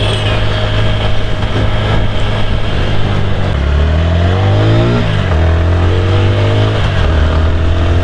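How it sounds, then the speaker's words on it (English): A loud TVS Apache RTR 160 4V motorcycle engine drones steadily, its exhaust note rising and falling as it revs while riding, close by with no talking. "this exhaust note is the very first thing that I'm noticing"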